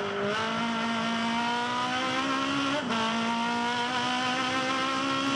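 Aussie Racing Car at Winton running down to the 90-degree turn 10 left-hander in second gear, engine droning loud and steady throughout, pitch rising, with a brief lift and gear change about midway before it climbs again.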